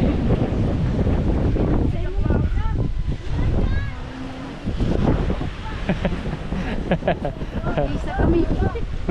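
Blustery wind rushes past aboard a small fishing boat at sea, buffeting the microphone steadily while people talk loudly over it.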